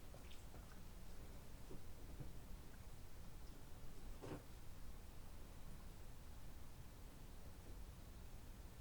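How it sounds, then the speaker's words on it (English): Steady rain falls outdoors as a continuous broadband hiss with faint scattered drops, at an even, moderately quiet level throughout, no voices. "it's raining outside where I am right now"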